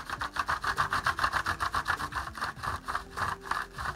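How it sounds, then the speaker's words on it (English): A crayon laid flat is rubbed back and forth over a homemade texture plate, making a close, steady rhythmic scraping of about three strokes per second with no voices. "So you're just going to lay your crayon flat"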